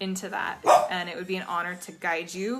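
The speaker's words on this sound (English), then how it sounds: "And that's my dog, by the way." A dog barks and yips in short bursts close by while a person keeps talking over it.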